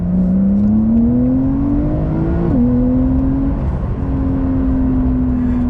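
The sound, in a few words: Porsche engine revving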